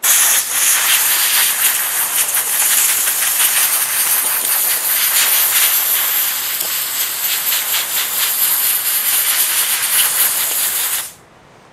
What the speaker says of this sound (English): after sanding, it gets hit again with the air hose.